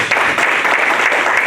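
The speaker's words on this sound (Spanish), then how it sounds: "Puede dar un fuerte aplauso al Señor." A church congregation breaks into strong applause, a loud, dense burst of many hands clapping close by, sustained and steady for a short moment without speech.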